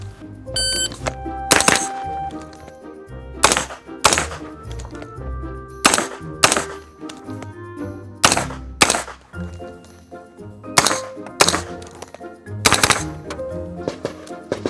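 Shots from a 9mm Inter Ordnance carbine with a 16-inch barrel, fired in a series of sharp, loud bangs. The shots come singly and in quick pairs with short gaps, and each one leaves a ringing tail.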